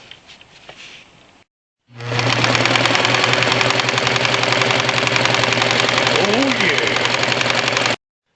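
A sewing machine stitching a folded-over one-inch fabric edge while reupholstering a chair, a loud steady mechanical whir running continuously for about six seconds after a short pause.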